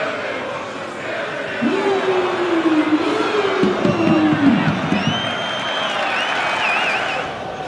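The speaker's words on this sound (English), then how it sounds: "Crowd applauding the drop of the shoulder." Football stadium crowd applauding and cheering during a match, a broad roar rising and holding for several seconds with whistles and whoops, heard at a distance under a commentator's voice.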